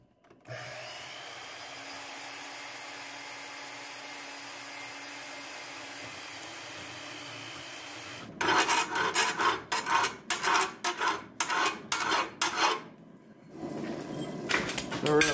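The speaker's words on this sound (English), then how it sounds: "I'm going to use my bandsaw here to cut along these lines" A bandsaw runs steadily on its own, then cuts steel for a forged coal rake, giving a loud rasping, grinding sound in repeated strokes with a brief pause before the cutting starts again.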